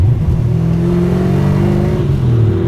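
A 1969 Chevrolet Camaro SS pro-touring car with a 490ci engine accelerates while cornering at about 50 mph, a loud, steady, close engine drone whose pitch slowly rises and shifts, with no talking.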